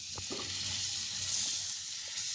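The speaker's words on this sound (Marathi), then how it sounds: "आता मी त्यामध्ये थोडंसं बटर घालते आहे, आणि त्या बटरवर आपल्याला हा रोल गरम करून घ्यायचा आहे, फ्राय करून घ्यायचा आहे" A crispy street-style veg roll fries in butter on a hot tawa, a soft, even sizzle with a couple of faint taps early on.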